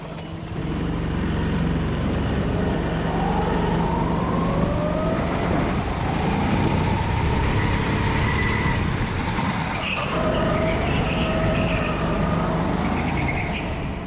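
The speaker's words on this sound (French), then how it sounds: "je fais tourner un peu le kart pour faire chauffer un peu plus vite" A racing kart engine runs on track with cold tyres, heard onboard as a loud, buzzing drone whose pitch climbs and falls repeatedly as the kart accelerates and slows through corners.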